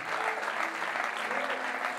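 A church congregation applauds steadily to honour pastor Mira, a dense, even patter of many hands clapping at moderate loudness with no talk over it.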